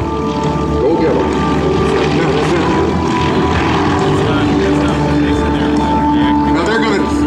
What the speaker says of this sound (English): They're flying the Yak-52 TW aerobatic aircraft.